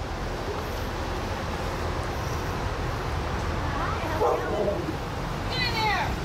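Several big dogs, a starved, chained pit bull among them, bark and whimper in a yard, the yips and cries ringing out over a steady outdoor hum with faint road traffic behind.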